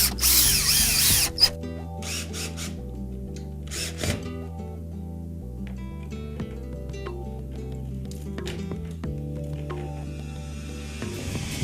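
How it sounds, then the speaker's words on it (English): A power drill drives screws down through a dome during home building work, with short whirring bursts separated by pauses and a tonal hum running beneath throughout. "Now we'll put the screws down through it."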